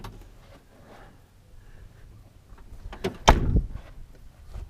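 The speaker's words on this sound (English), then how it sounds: "Hear that door?" A Chevrolet S10 pickup truck door swings and shuts with a single solid thunk, close by, after a few quiet moments of soft handling noise.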